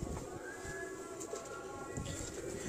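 A Ferozpuri pigeon coos softly in a loft, with faint low repeated calls over steady background hum and a distant voice.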